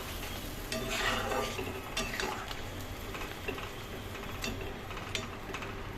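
Pointed gourd curry bubbling and sizzling in an uncovered pan, a soft continuous sizzle broken by occasional scraping stirs and light utensil clinks against the pan.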